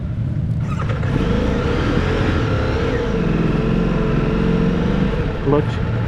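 A 2026 Ducati Multistrada V4 Rally engine droning steadily while riding, close and loud, with heavy wind rush and the rider talking over it.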